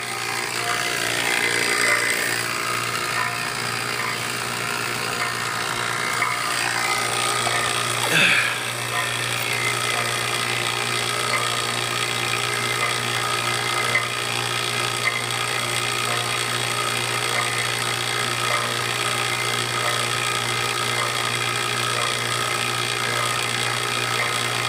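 Vacuum pump steadily evacuating an HVAC line set and evaporator: a constant mechanical hum and drone running throughout with little change, a brief knock partway through, and someone talking over it.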